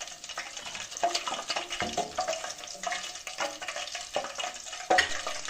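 İzmir meatballs frying in a pot give off a soft, faint sizzle, broken by scattered stirring knocks and clinks.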